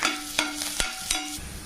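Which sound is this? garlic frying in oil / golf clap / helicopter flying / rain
garlic frying in oil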